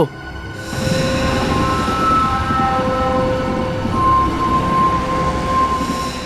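A train runs on rails with a continuous rumble, thin metallic wheel squeals sounding intermittently above it, loud and close.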